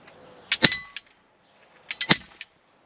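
A Walther P99 DAO 6mm airsoft replica pistol fires at a target in two bursts of sharp, close clacks, each shot a crisp snap with brief mechanical clatter, separated by a short quiet gap.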